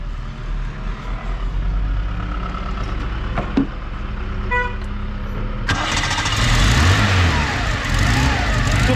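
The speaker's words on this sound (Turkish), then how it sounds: "Şimdi benzinle çalıştırdığın için sıfıra getir araba çalışsın." A petrol-running Tofaş Doğan car engine rumbles at idle, then grows louder and rougher as it revs, with a brief tonal chirp partway through.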